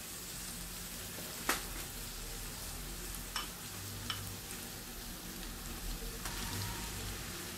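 Rice and egg being stir-fried in a pan for yakimeshi, giving a faint, steady sizzle broken by a few sharp clicks of the spatula against the pan.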